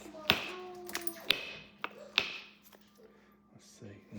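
Three sharp stone-on-stone strikes ring out close and fairly loud at a slow irregular pace as flint knapping works Kentucky hornstone rock. Fainter taps and handling noises follow.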